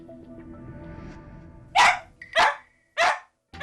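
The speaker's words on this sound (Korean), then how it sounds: "목이 쉴 때까지 쉼 없이 짖는 게 삶의 전부인" A distressed 14-year-old dog barks three times in loud, raspy bursts, close by and spaced about half a second apart, after a stretch of softer whining and background noise.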